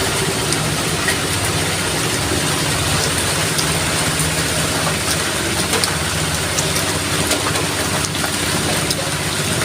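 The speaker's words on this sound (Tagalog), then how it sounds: "Malakas sa ulan." Steady, dense roar of heavy rain pouring down, a constant broadband hiss with a low rumble underneath and no pauses.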